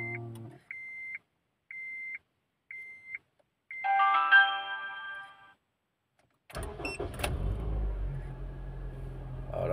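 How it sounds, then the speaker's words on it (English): A Honda Stream RN6 being started: a string of evenly spaced dashboard chimes, a burst of tonal whirring as it cranks, then the engine catches and settles into a steady, fairly loud idle. "Okay, now I start the car."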